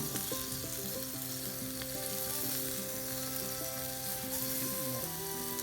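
Skinless sausages sizzling on a grill, a dense, steady crackle and hiss with faint pops, a soft musical tone running underneath.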